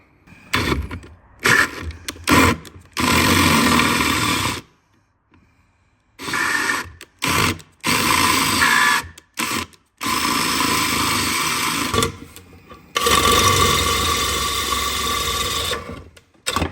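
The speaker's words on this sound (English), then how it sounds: "let's drill it out and helicoil it" A drill bores out the stripped oil drain plug thread in an engine sump. It runs close up in three long grinding bursts separated by short pauses and brief stops.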